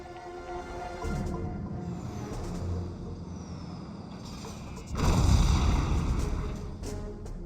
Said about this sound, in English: goes to throw a lot of bombs under the ore refinery as well